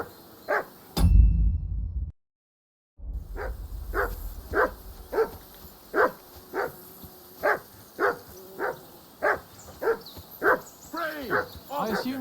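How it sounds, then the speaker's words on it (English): Repeated barking from a dog in Kingdom Come Deliverance II, about a dozen evenly spaced barks at moderate distance, with a brief loud thump and a silent gap early on and whimpering near the end. "I assume you can hear that damn dog of yours barking."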